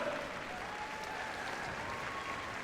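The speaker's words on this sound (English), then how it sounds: "Give them a round of applause." Steady audience applause at a dog heelwork-to-music freestyle competition at Crufts 2013, a dense wash of many hands clapping continuously at a moderate distance, with no voices standing out.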